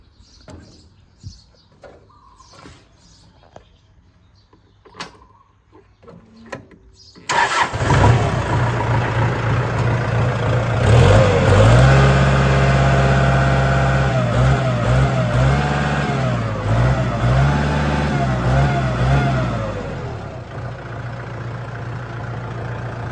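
A Kubota L4508 diesel tractor engine cranks and catches after a few quiet seconds, then settles into a loud, steady running rumble with slight revving fluctuations.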